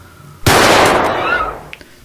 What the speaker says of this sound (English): takes out his pistol from his pocket and fires it into the overhead locker